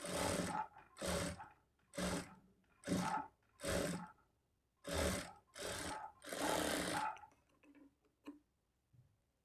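Sewing machine stitching a blouse lining in short bursts, about eight separate runs of steady mechanical whirring with brief pauses between them, close and clear, ending with a few quiet handling ticks.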